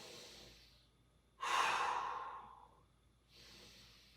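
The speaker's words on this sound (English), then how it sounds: "Let's go 3 big breaths here" Three slow, deep breaths come close to the mic during a forward fold stretch over a foam roller, with a long exhale in the middle and no talking.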